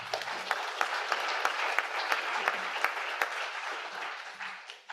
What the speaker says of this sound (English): the bigger clap will go to Ioanna for hosting, and organizing this for